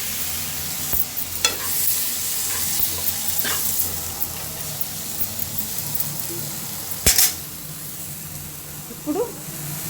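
Chopped tomatoes frying in a pan with chilli powder, stirred now and then, give a steady sizzle with occasional scraping knocks, close by and fairly loud throughout.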